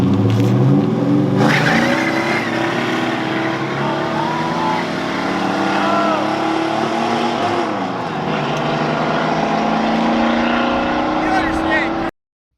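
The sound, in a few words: muscle car engine accelerating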